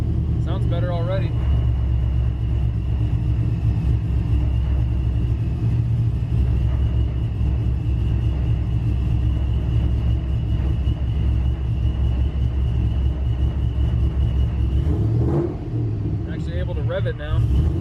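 A supercharged GMC truck engine idles at a steady, loud, low rumble close by, with a brief rise in pitch near the end. A person talks over it at the start and the end.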